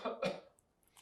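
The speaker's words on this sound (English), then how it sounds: "the next one is the huff cough. So in through the nose, then out through the mouth with that coughing action." Two short breathy huff coughs, exhaled forcefully through the mouth as a breathing exercise for chronic respiratory disease such as bronchitis, close and clear, followed by quiet.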